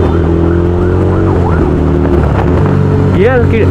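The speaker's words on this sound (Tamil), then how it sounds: "ஆக்ரப்பாவிக் R1M கார்பனோட எக்ஸாஸ்ட் நோட்டு" A Bajaj NS200 BS6 motorcycle fitted with an Akrapovic R1M carbon exhaust revs loudly up close, its engine note rising and falling in swooping blips with a sharp high whine near the end, and a voice is heard faintly underneath.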